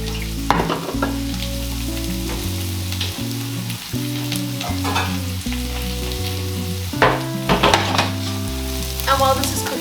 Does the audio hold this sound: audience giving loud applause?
no